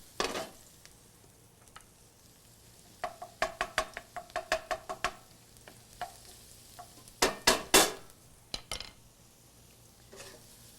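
Vegetables are stirred in a pan over a lowered flame while they sweat, with bursts of spoon-on-pan scraping and clinks over a faint, quiet sizzle. No one speaks.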